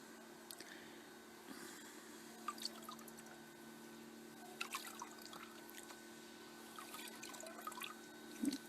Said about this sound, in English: Let all the water drain out.